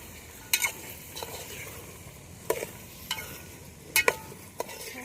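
A spoon scrapes and stirs through vegetables, including cauliflower, in a pan of Gujarati stuffed mixed-vegetable curry, several sharp clatters over a steady low sizzle, close and fairly quiet.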